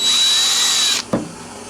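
Power drill spinning a bit inside a pin hole in a Guild JF65-12 guitar fretboard, a steady close whine for about a second before cutting off, followed by a brief low knock.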